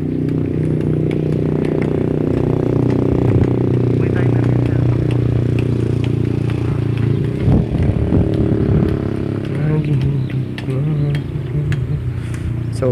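A motorized tricycle engine rumbles steadily nearby in Ilagan City, Isabela, a low continuous drone with occasional clatter and a brief louder burst midway.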